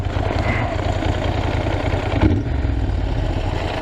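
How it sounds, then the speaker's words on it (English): A Moto Guzzi Griso motorcycle engine idles with a rough, rattly chug, steady and fairly close, with a brief clunk partway through. "It sounds great too. It's all rattly and like a proper motorbike should be."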